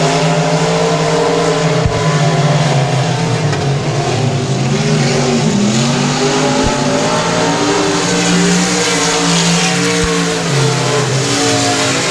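Race cars tearing down the back straightaway at Sabine Speedway, led by car number 77: loud, continuous engine roar with rising and falling pitch sweeps as several cars pass and shift, with brief tire squeal.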